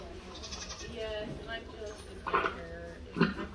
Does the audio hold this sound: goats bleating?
yes